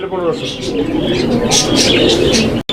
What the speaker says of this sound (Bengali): এখানে চমৎকার আরও এক জোড়া কবুতরের কালেকশন রয়েছে